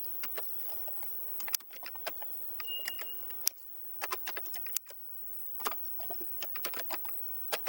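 A password is typed on a computer keyboard, with quiet, irregular key taps coming in short bursts and a few sharper clacks over a low, steady background.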